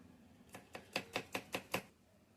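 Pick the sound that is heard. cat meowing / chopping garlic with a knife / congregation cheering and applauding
chopping garlic with a knife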